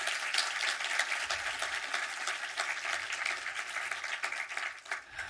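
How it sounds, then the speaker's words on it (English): An audience at an evening film event applauds partners of the UCLA Film and Television Archive, steady dense clapping from a crowd, fairly near, holding for several seconds without talk. "Big round of applause for all our partners"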